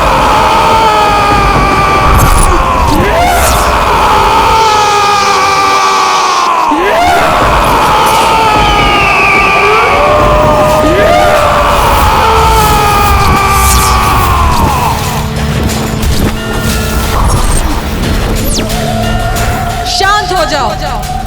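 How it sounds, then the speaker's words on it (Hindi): Loud, sustained shouting and screaming from a character in a Hindu mythological TV drama set in a place with bats, a strained, wavering voice filling the scene almost continuously over a dense background score. "इस प्रकार ऊंचे स्वर में चीखने से कुछ नहीं होगा।"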